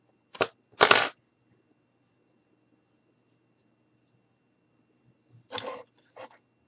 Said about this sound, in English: And then I'm going to turn it, and I'm going to cut this way.